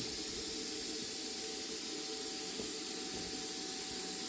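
Sunstac SS-50C plasma cutter slicing through metal, giving a steady, loud, continuous hiss with a thin whine running through it and no talking.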